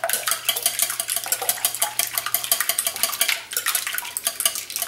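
A whisk beating eggs in a bowl for a breakfast frittata, a fast rhythmic clatter and tapping of metal against the bowl, close and fairly loud, continuous with brief pauses.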